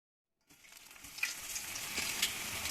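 Lavash rolls filled with suluguni cheese drop into hot oil after a moment of silence, and a bright frying sizzle builds and holds with small crackles and pops, close and fairly quiet, no talking.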